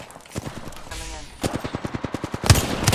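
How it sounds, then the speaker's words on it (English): Rapid bursts of automatic gunfire in a shooter video game, a sharp volley early, then a steady rhythmic string of shots building to louder, denser fire near the end. "The enemies are shooting it."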